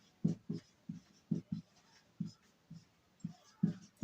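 Chalk or marker writing on a board during a wave optics lesson, about a dozen short, distinct strokes tapping and scraping in an even rhythm, close and clear with no talk over them.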